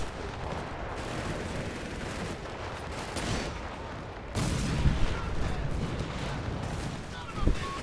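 Artillery fire in a World War II strategy video game pitting Afrika Korps against US Partisans, distant booms and rumbling impacts under continuous battle noise, with a heavier barrage midway and a sharp blast near the end.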